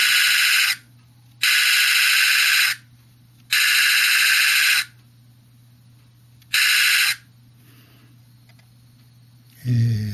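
A radio transmitter's alarm imitating machine-gun fire, bursts of harsh, loud rattling lasting one to two seconds each, separated by quieter gaps with a low hum beneath, and a final burst beginning at the end.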